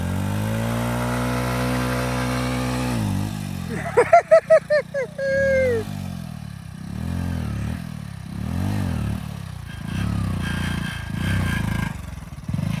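Motorcycle engine revved hard at full throttle, first a steady low idle drone, then sharp repeated revs and a sustained high-pitched climb, loud and close with rising and falling pitch.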